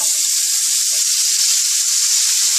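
Cabbage dropped into a hot pan with salt and garam masala for a cabbage and peas sabzi, giving a loud, even, continuous sizzle and hiss, close up and steady throughout.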